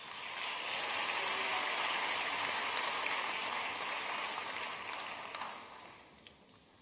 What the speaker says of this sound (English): Class of 2019, please give our alumni a round of applause.